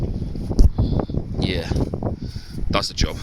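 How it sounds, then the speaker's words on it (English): Wind gusting across a seaside fishing pier, buffeting the microphone as a steady rough roar underneath continuous nearby talking. "Sorry about the wind."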